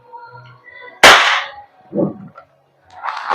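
A WE Glock 17 Gen 5 gas blowback airsoft pistol fires one sharp, loud shot close up with a brief ringing tail, followed by faint handling clicks and rustles.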